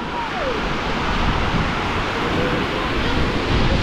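Heavy storm waves pounding the shore at Divnomorskoye, a steady dense roar of surf close by with wind noise over it and no speech.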